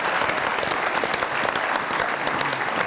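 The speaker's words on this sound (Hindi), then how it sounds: "बहुत सारी तालियां इनके लिए।" Loud, dense studio audience applause on a comedy talk show, a continuous burst of clapping with no talk over it.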